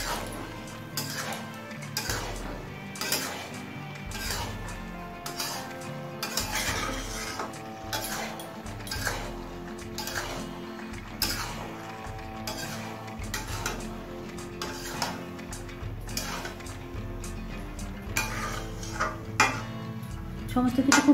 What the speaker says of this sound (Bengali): এবারে সমস্ত কিছু আরো একবার ভালো করে মিশিয়ে নেব।